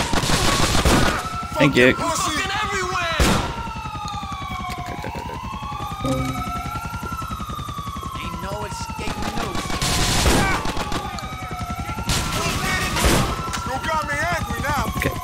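Gunfire bursts and scattered shots in Grand Theft Auto 4: The Ballad of Gay Tony, with police sirens wailing throughout, loud broadband blasts clustered near the start and around the middle, and a voice speaking briefly.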